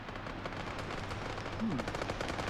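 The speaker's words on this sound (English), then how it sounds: "Baby Potato getting a great kill spray down with that 249." Sustained M249 machine gun spray in a competitive first-person shooter match, dense rapid gunfire over a constant noisy game mix.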